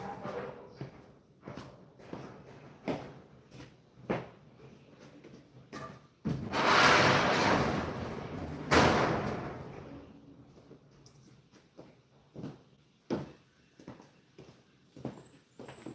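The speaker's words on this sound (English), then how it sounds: "I'm gonna go move this door so it quits making noise." An open door on or near a Peterbilt 389 truck banging repeatedly in the wind, giving irregular sharp thuds spaced about a second apart, with a louder rushing gust in the middle and no talking.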